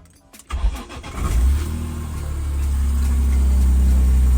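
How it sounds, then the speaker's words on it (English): A BMW E46 M3 in neutral cranks and fires up after a brief whir, then settles into a steady, close, rumbling idle that continues to the end. "what I'm going to do is start the car, making sure it's in neutral"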